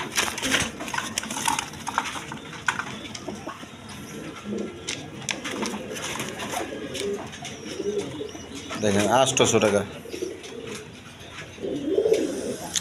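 Pigeons coo steadily at a pigeon sale of jak and khaki-necked birds, low burbling calls repeating throughout while someone talks over them near the microphone.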